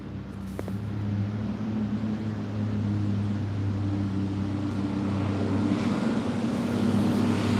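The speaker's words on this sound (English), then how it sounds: "I hear another boat." A motorboat engine drones on the water during a catfishing outing, a steady low hum that grows slightly louder as it passes, with wind buffeting the microphone.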